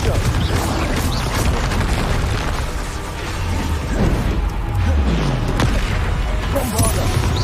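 Confringo fire spell blasts go off during Hogwarts Legacy gameplay: dense, rumbling bursts and crackling impacts pile up continuously, mixed with voices.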